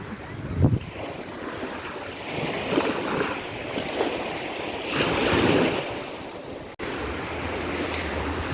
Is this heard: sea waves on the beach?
yes